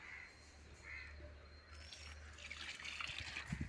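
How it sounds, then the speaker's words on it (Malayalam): Liquid fertilizer made from vegetable waste is poured onto chilli plants in a home garden, a faint trickle that grows louder near the end, with crows cawing in the background. "ഇനി ശകലം പച്ചമുളകിനും കൂടി ഒഴിച്ചേക്കാം"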